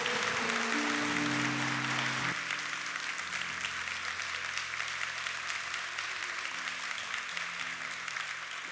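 A church congregation applauding to close a worship moment, steady clapping heard fairly faintly beneath sustained instrumental or keyboard tones that carry on throughout.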